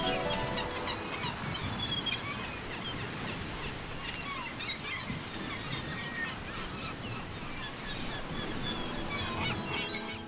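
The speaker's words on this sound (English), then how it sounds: "I think the bird sounds in this game got all mixed up." Honking, goose-like bird calls from the video game Fire Emblem Engage, set on a seashore, repeat throughout over a steady wash of surf and ambient game sound.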